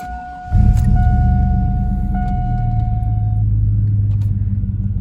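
A car engine cranks and catches, then settles into a steady, loud idle rumble close by, with no voices.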